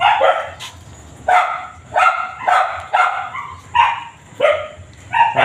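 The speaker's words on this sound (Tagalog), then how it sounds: "Marami tayong mga aso dito guys." Several dogs bark in short, loud bursts roughly every half second to second, one yelp standing out early, with no other sounds around them.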